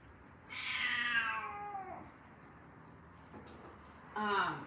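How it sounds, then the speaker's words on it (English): A house cat meows twice, a long drawn-out call followed by a shorter one a couple of seconds later, close and fairly clear in a quiet room. "I'm gonna let my cat out into the deck."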